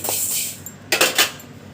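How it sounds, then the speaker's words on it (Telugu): Vermicelli (semiya) stirred while frying in a metal pan, with close, sharp clinks and scrapes of a utensil against the pan, a couple of louder knocks near the middle, and no voice. "ఇప్పుడు సేమియాని ఇలా కలర్ మారే వరకు బాగా వేయించుకోండి"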